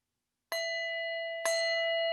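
Two struck bells on a bell tree ring out one after the other, each a bright, clear strike that sustains with a steady, even tone, alone in a quiet room.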